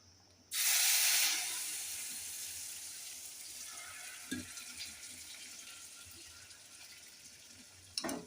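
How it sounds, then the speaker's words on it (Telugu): Hot tempering of onion and curry leaves hits a pot of old-style drumstick dal with a sudden loud sizzling hiss that gradually fades into a low simmering fizz, with a brief clatter near the end. "ఇప్పుడు పోపు అయితే వేగిందండి"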